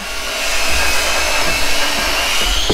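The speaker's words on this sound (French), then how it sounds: "Et Erwan qui est en train de couper les boulons en bas, super." Power tool cutting through bolts at the base of old farm silos being dismantled, a loud steady whirring drone running continuously without a break, no voices over it.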